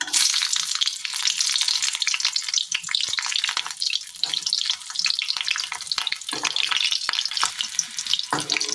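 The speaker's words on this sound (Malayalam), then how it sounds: "ചീനച്ചട്ടിയിലെ എണ്ണയിലേക്ക് 2 പച്ചമുളക് കട്ട് ചെയ്തത് ഇട്ട് കൊടുക്കാം" Cut green chilies hit hot oil in a Kerala-style iron wok, raising a loud, steady crackling sizzle that runs throughout with a few sharp pops and clinks, and no voices.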